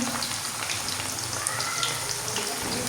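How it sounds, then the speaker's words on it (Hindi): Chicken pieces fry in a pan over a medium flame toward light brown, giving a steady, dense sizzle and crackle that runs unbroken and close up, with no talk. "इसे हम लाइट ब्राउन मीडियम फ्लेम के ऊपर इसको फ्राई करेंगे"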